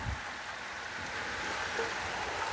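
Heavy rain in Wilkesboro, North Carolina pours down as a steady, dense hiss, continuous and even, with no voices.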